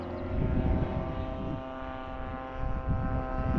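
A 50cc model biplane engine and propeller drone steadily in flight, a constant buzzing tone with slight swells, moderately loud with faint wind noise.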